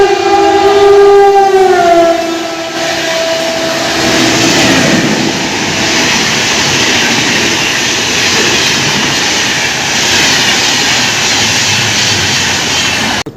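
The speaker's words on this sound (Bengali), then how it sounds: "আমাদের ট্রেন এসে গেছে।" A local train arrives at a station on the Kolkata to Joychandi Pahar route, opening with a loud, sustained horn that gives way to a close, heavy rolling rumble of wheels and carriages for the rest of the clip.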